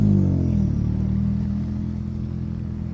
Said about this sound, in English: Next car's coming towards us.